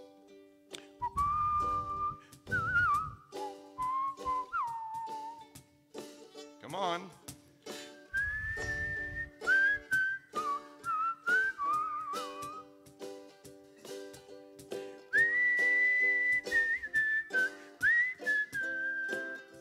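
A person whistles a wavering melody in sustained notes over a soft organ-like accompaniment during a church Sunday service, with a brief spoken prompt in between.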